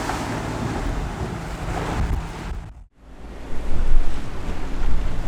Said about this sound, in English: The wind is like 20 knots and the swell is actually pretty big.